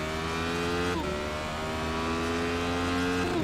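Race car engine in a racing video game, a steady loud drone with sustained harmonic tones that shift pitch once near the first second as the car changes gear, running continuously without talk.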